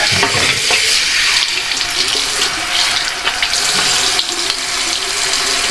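Steady running water from a tap splashes continuously while a freshly shaved head is rinsed at a sink, a loud, close broadband rush with no pauses.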